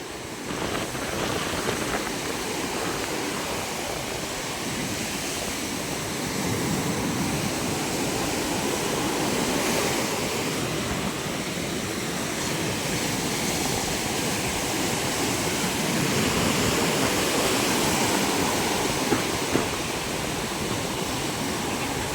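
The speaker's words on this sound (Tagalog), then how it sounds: "lakas ng alon" Strong sea waves surge against the shore near a beach hut, a steady loud roar of surf and rushing water that persists throughout with no talking.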